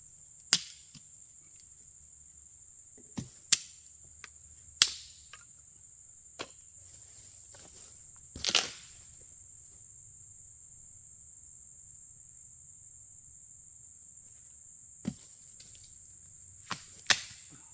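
Crickets and other insects chirp in a steady, continuous high trill at a campsite at night near a fire pit, with scattered sharp clicks and knocks close by and no talking.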